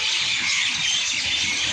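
A dense chorus of birds chirping and tweeting fills the air as a steady, bright wash of calls, continuous and fairly loud throughout with no talking.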